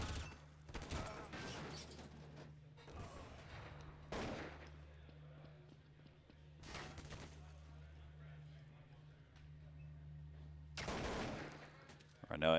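Bursts of AK rifle fire from the game Counter-Strike: Source on the de_nuke map during a LAN grand final, several sharp volleys spread across the stretch over a steady low game hum, with a commentator talking throughout.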